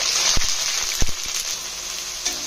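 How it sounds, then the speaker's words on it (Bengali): Loud, steady sizzling of garlic paste frying in hot oil, with a few sharp scrapes and knocks of a spatula against the pan. "এভাবে নেড়ে চেড়ে একটু ভাজা ভাজা করে নেব"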